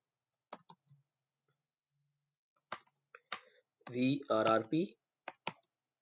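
Commands typed on a computer keyboard during a Cisco networking lab, ending with a press of enter: sparse, crisp key clicks in small clusters, close and quiet, with a short stretch of voice in between.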